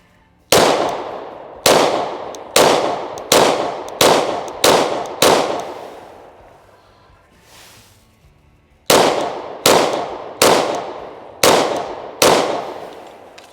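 Palmetto State Armory Dagger pistol, an inexpensive handgun, fired in two quick strings of sharp, loud shots, about seven and then six rounds, each with a ringing decay, separated by a short quiet pause.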